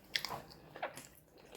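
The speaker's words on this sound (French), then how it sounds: "On entend des bouches mâchées." Mouths chewing food up close during a family outing, a few crisp wet bites and smacks in quick succession, quiet and without talk.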